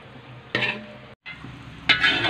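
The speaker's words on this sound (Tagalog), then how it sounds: "Haluin lang natin, no? Hanggang lumapot, no?" Beef pares sauce thickened with cornstarch is stirred in a pot, a spoon scraping and swirling through the liquid in two louder bursts over a soft background of cooking noise, with a brief drop to silence in between.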